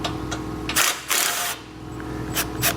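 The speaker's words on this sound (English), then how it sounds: "There's 3 bolts on each side we'll remove with a 13mm socket." Socket wrench removing 13mm bolts from the front beam of a 2020 Chevrolet Sonic, heard as short bursts of rapid ratcheting clicks close by, separated by brief pauses, with no voices.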